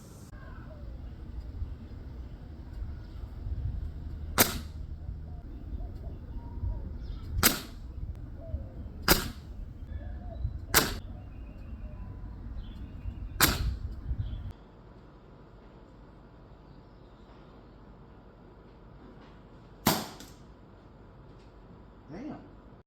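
A PCP airgun fires six sharp cracks at irregular intervals, close and crisp over outdoor background noise, with the final shot suppressed by an STO Sarissa moderator.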